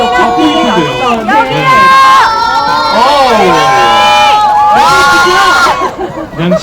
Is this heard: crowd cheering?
yes